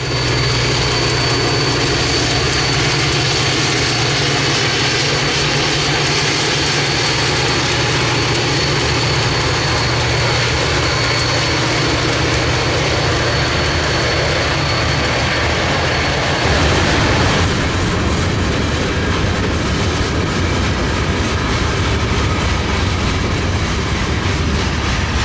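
A CP freight train led by an SD40-2 locomotive rolls into Gap Yard, a loud, continuous rumble with steady engine drone and wheel noise that shifts in character partway through.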